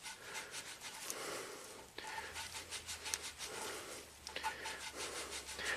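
Valves of a 1998 Toyota Camry V6 being lapped with grit: a steady, gritty rubbing and rasping in repeated strokes with brief pauses between turns, close and fairly quiet, with no talk.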